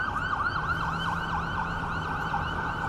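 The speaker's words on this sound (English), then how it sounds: "Quick break to a police car on top of the Gardener. There's the sirens" A police car siren wails on the Gardiner Expressway in Toronto at night, a steady rising-and-falling yelp heard from a moderate distance over low traffic rumble, with no talk.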